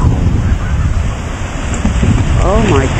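River waves surging after a landslide, a continuous rough roar of churning water buffeted by wind noise, with a voice exclaiming near the end.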